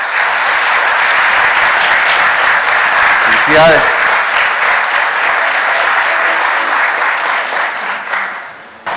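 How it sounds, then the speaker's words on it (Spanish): Church congregation applauding during Mass, loud sustained clapping that fills the space, with a voice briefly calling out midway before the applause tapers off. "Un aplauso le damos a estos hermanos."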